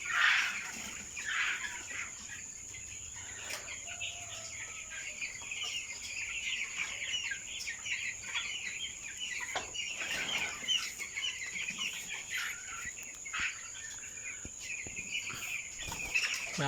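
Young broiler chickens, 18 days old, in a farm house, a flock making soft continuous chirps and clucks that overlap steadily and sound moderately close, with no one talking.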